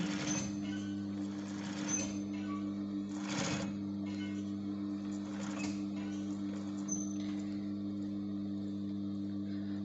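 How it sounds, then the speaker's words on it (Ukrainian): A sewing machine stitches fur fed between two discs, making shaped saw-tooth or wavy seams. It runs with a steady loud mechanical hum and whir, broken by a few brief clacks and bursts, and no one speaks. "заправляємо наш волосяний покрив та починаємо шити"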